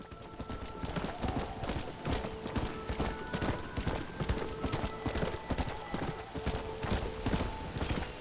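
Horse hooves galloping in the video game Red Dead Redemption, a steady, rhythmic clip-clop drumming close and loud throughout, with faint tonal game sounds underneath.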